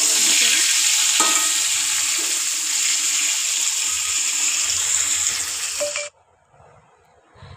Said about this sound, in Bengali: পটলটা দেখো আমার ভাজা একটু হয়ে এসেছে